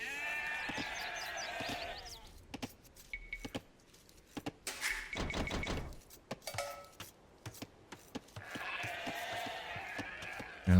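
Sheep bleat in the Age of Empires II game, wavering calls at the start and end, with clicks and short in-game sound effects scattered between them.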